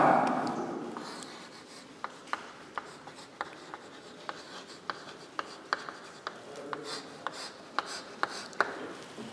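Chalk taps and scratches on a board in a quiet lecture room, a steady series of short sharp clicks and strokes roughly every half second, close and fairly crisp with no talking.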